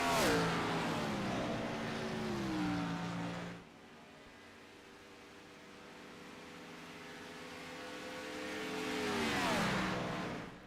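A 76 Chevrolet race car in a racing video game revs and accelerates, its engine note rising and sliding in pitch, easing off midway to a lower drone, then building again near the end.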